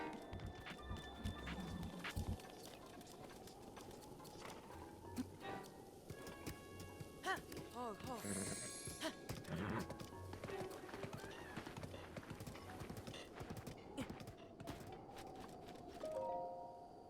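Horse hooves clip-clop at a steady gallop in the video game Zelda Breath of the Wild, rhythmic and continuous over ambient game sound and music, with a brief whinny.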